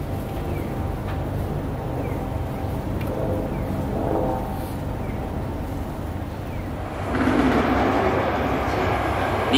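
An Osaka subway train rumbles and rolls in close by at platform 2, bound for Kita-Senri, a steady mechanical roar that grows louder and brighter toward the end as it pulls alongside.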